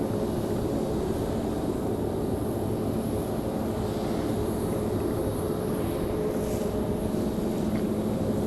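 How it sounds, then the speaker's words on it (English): An executive jet departs from Raleigh-Durham International Airport, its engine roar steady and loud throughout with a broad low rumble and a faint high whine above. "There we go, our exec jet"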